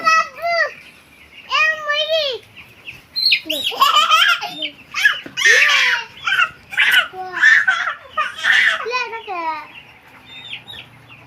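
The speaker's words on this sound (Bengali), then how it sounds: "এখানে মুরগি আছে 1000" A flock of about ten-day-old broiler chickens on a Bangladeshi village farm of a thousand birds cluck and squawk close by in repeated bursts, with a voice talking among them.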